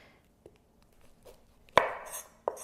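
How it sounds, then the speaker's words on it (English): A knife trims the stem ends off Brussels sprouts on a cutting board: a few separate, crisp chops with quiet pauses between them, close and clear with no voices. "you just want to simply cut off the little ends, the stem ends"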